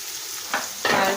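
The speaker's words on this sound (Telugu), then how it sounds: "సాల్ట్ వేసుకొని మంచిగా మూత పెట్టకుండా ఫ్రై చేసుకోవాలండి, లేదంటే మెత్తగా అయిపోతాయి" Salted bitter gourd slices frying crisp in an open pan with no lid, a steady close hiss of oil with two brief bursts of stirring and sizzling.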